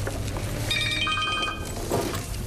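A telephone rings indoors in a drama film, a trilling electronic bell in a couple of short repeated bursts, moderately loud over a steady low background hum.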